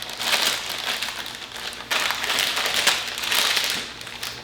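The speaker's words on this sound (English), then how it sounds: "I'm just going to open the little plastic bag." A small plastic bag from a Breville Barista Express espresso machine is pulled open by hand, giving close, loud crinkling in uneven bursts with a brief pause partway through.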